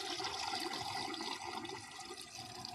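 Water poured from pots into a monoblock motor pump with a failed oil seal makes a faint, steady gushing, splashing flow that runs without a break and ends with a brief knock.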